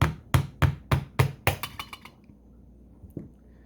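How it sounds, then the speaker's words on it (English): A hammer lightly taps a Holley 650 CFM double-pumper carburetor: a quick series of sharp metallic knocks that speed up and soften, then stop, followed by one faint tap. "Now you can use a hammer and tap it lightly if it don't come off."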